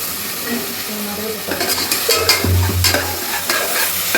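Ginger garlic paste sizzles in a hot pan for green kadai chicken while a utensil stirs and scrapes it, the frying hiss rising as the clattering strokes pick up partway through, close and fairly loud.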